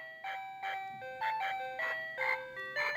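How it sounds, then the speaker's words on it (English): A loud children's toy plays a bright electronic chiming melody of repeated notes, steady and close for the whole stretch, with no voices. "certain children's toys, when we use those children's toys, the sound is quite loud"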